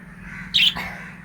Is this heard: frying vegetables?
no